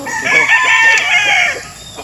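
A rooster crows loudly and close by, one long drawn-out call that rises and then trails off.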